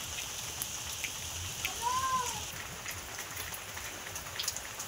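Light rain falling and easing off, a faint steady patter and hiss of drops on surfaces, with a brief soft chirp partway through.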